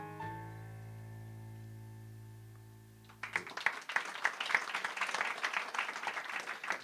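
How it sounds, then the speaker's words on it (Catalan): A sustained tonal chord holds for a few seconds, then cuts off as a burst of audience applause breaks out at a literary reading in Olot, dense clapping continuing to the end. "Sou molt amables per aplaudir després de cada microrelat."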